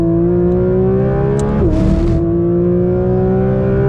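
A Porsche 992 GT3 RS sports car drones under steady engine power. Midway there is a quick gearbox shift with a short burst of noise before the engine note settles again.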